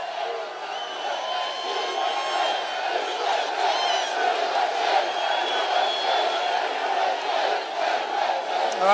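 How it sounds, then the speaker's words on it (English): A large outdoor crowd cheers and shouts continuously, a dense roar with scattered whoops and voices stretching into the distance, sustained and loud throughout. "This is a rather nice crowd."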